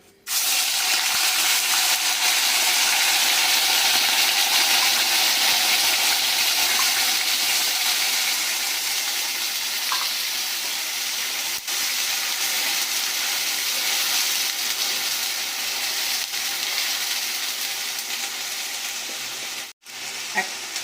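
About 250 grams of onion paste frying in a pan for dhaba-style chicken keema kaleji, a loud, continuous sizzle and hiss held steady for a long stretch with faint stirring and no talk.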